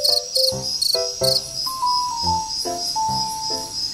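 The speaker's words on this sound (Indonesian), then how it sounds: "Seperti yang kita ketahui, jangkrik merupakan serangga yang kompleks." A cricket gives bright, rapid pulsed chirps at the start, then a steady high trill runs on over a series of low tones that rise and fall beneath it.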